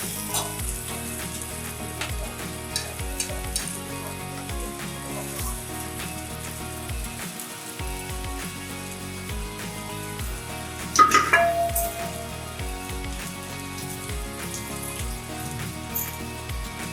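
Sabudana (sago pearls) frying in a pan and stirred, a steady close sizzle with scraping and clinks of the spoon against the pan, a brief louder clatter partway through, no talk.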